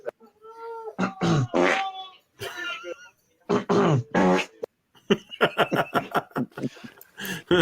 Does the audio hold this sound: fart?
yes